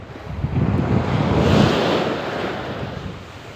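Strong onshore wind and sea waves on a coast where people fish for squid: a loud, continuous roar of surf and buffeting wind against the microphone that swells to a peak midway and then eases, with no talk.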